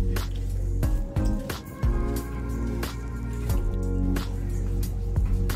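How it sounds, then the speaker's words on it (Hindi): Cut banana pieces drop into a bowl half filled with water, giving a string of soft wet plops and small splashes at irregular intervals with a low hum underneath. "इसमें हम केले काट कर डालेंगे"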